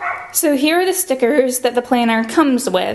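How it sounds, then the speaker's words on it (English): A Labradoodle and a Beagle play outdoors, yipping and barking in quick, high-pitched bursts that ring loud and steady throughout, while someone talks over them indoors. "Sorry about the barking."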